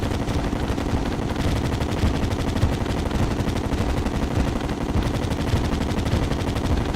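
Terraria's Vortex Beater or gold coin gun fires nonstop in a steady, dense rapid-fire stream of shots, loud and even throughout with no talking.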